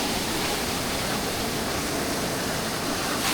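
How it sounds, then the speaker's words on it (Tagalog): Heavy ocean surf at Dibut Beach rumbles as a dense, continuous wash of big waves, loud and unbroken with no voices. "malaki kaigit yung mga alon pagka ganito eh"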